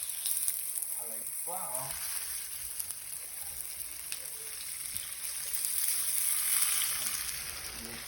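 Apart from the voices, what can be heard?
tofu sizzling while frying in a pan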